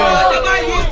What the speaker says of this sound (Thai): เอาใครยังเชียร์บอลไทยอยู่ขอเสียงนะครับ